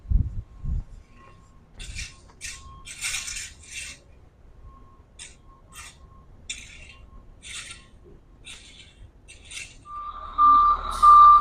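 A gravel delivery truck bringing crushed granite for a new driveway, heard as scattered bursts and clatter with a low engine rumble, ending in a loud steady reversing beep near the close.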